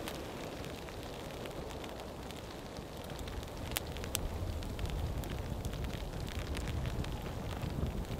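Wood fire burning inside a camp stove during a snowy mountain winter storm, a steady crackling roar with sharp pops, overlaid by rough, gusting wind buffeting the microphone throughout.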